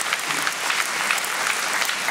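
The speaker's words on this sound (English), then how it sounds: "should give him a round of applause" An audience at a Magnolia community event saluting heroes breaks into a steady round of applause, many hands clapping at once in a dense, even patter that holds at a fairly loud level for the whole stretch.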